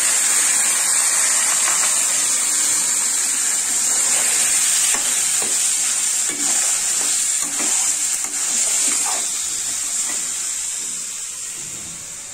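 Spice-marinated chicken fries in a hot pan for spinach chicken, giving a loud, continuous close sizzle and hiss with faint stirring clatter underneath, no voices.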